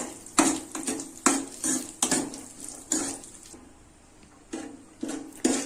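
Cut almonds and cashews stirred in a pan, with repeated metallic scraping and clinking of a spoon against the pan in uneven bursts, close and fairly loud, with a soft frying hiss between the strokes.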